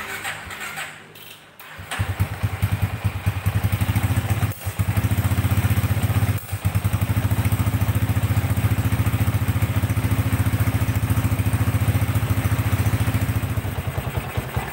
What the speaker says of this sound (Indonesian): Kita coba pakai starter ya.